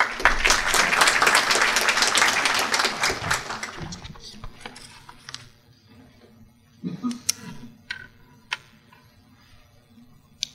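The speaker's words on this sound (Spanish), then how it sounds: "Por favor, recibámoslos con merecidos aplausos." A conference audience gives dense, loud applause that fades away over about five seconds. After that, scattered small knocks and taps sound in a quiet room.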